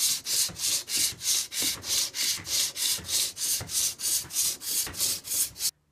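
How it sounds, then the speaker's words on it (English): Sandpaper rubs over wood in a steady back-and-forth rhythm, about a dozen even, close strokes that stop abruptly at the end, with no talk. "So now I'm just going to clean it up with some sandpaper,"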